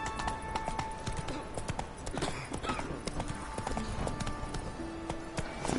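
Hoofbeats of a horse in The Witcher 3, brisk repeated clip-clops at a running pace, mixed with game ambience and music, with a faint whinny-like tone.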